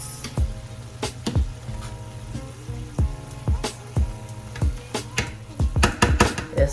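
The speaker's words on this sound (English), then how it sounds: "we're cooking up the saltfish" Saltfish fries in a pan, a low sizzle punctuated by a regular series of sharp knocks and clatters from a utensil against the pan.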